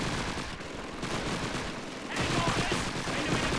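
Continuous MG42 machine gun fire in the Call of Duty 2 World War II shooter, a dense unbroken rattle that grows louder in the second half, steady and close.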